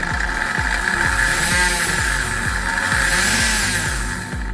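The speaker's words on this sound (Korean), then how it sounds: "전원을 켜고 전압 조정기의 노브를 천천히 돌려보겠습니다. 네, 모터에 전기가 입력되면서 반응을 하죠." A universal motor powered through a voltage regulator whines loudly and steadily at high speed, with a strong tonal hum and rhythmic pulsing underneath, alone without talk.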